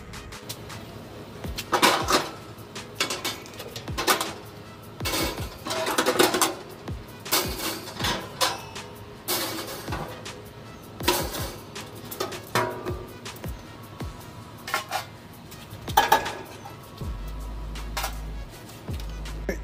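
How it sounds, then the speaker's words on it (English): Porcelain grill grates, a grease drain pan and a heat baffle are lifted out of a Z Grills 10002E pellet grill with the lid open, giving a scattered series of close metallic clanks, scrapes and knocks with brief pauses between them. "remove the porcelain grills, grease drain pan, and the heat baffle in the interior of the grill"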